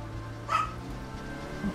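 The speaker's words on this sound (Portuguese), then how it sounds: "apareceu a cachorrinha latindo aí, querendo sair do quarto" A small dog barks once or twice indoors, wanting out of a room, the short moderately loud yelps rising over a steady low hum of video game sound.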